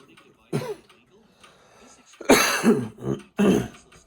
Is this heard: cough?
yes